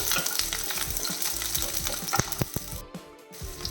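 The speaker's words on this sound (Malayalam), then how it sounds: "ആ ഉള്ളി ചെറുതായിട്ടൊന്ന് വഴറ്റിയെടുക്കണം" Small onions and ginger sautéing in a pan give a steady close sizzle, with scattered clicks and scrapes of stirring and no talk.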